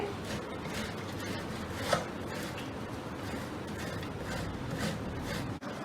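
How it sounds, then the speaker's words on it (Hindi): Boiled potatoes rubbed against a kitchen grater, giving a steady, close scraping rasp that runs unbroken for several seconds with one brief knock partway through. "इसको हम कद्दूकश कर लेंगे"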